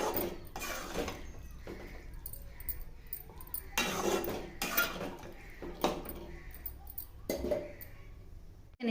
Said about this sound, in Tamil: நல்லா மிக்ஸ் பண்ணிவிட்டு ஒரு மூடி போட்டு நல்லா கொதிக்க வைங்க.